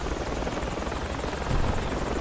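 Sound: helicopter in a video game

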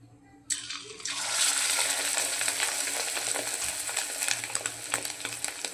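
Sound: fish roe fritters dropped into hot oil, frying

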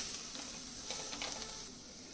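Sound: frying turmeric and red chili powder in a pan

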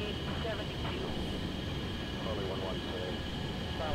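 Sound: jet aircraft engine flying low in a flight video game

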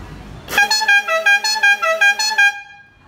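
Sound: car horn sounding weakly without relay

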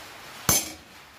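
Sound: hammer and chisel marking corners of steel

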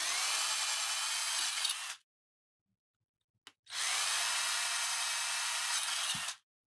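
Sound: hand drilling holes in an enclosure

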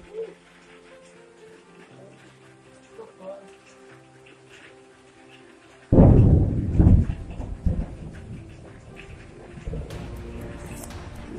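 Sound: thunder during a lightning storm

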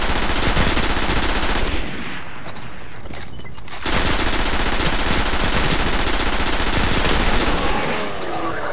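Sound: gunfire killing legionaries in the video game Destiny

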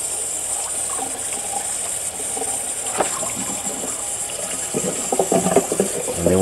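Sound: rinsing pork ribs under cold running tap water

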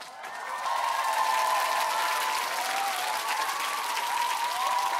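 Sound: concert audience applauding a band's entrance

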